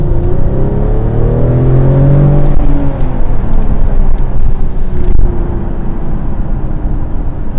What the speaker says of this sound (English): So let's put it into the Sport Plus mode. And we will see how this 3-liter 6-cylinder petrol engine